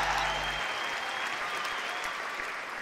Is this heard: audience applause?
yes